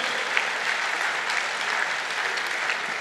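Audience applause at a Lagos State government address, a dense, steady crowd clapping that stays loud and even throughout without voices.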